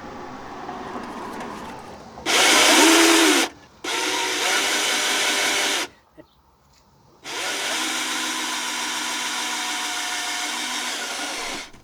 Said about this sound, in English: Now it's time to break out the drill.